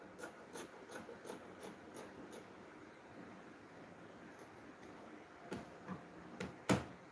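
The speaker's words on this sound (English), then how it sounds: "I'm trimming out the lining." Scissors trim the lining fabric of a garment being sewn, giving a quick run of light, evenly spaced snips, then a pause and a few sharper, louder cuts close by.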